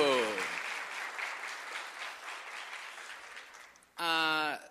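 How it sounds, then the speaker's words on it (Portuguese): Audience applause at a talk, a steady wash of many hands clapping at moderate level, with a voice speaking briefly at the start and again at the end. "Uma salva de palmas, por favor."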